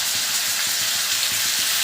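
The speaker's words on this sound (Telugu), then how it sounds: "మటన్ ఇలా వేగుతున్నప్పుడే కారం, ఉప్పు వేసుకోవాలి" Boiled mutton fries in ghee with ginger garlic paste for a mutton ghee roast, giving a loud, dense, steady sizzle with faint rhythmic stirring underneath and no talking.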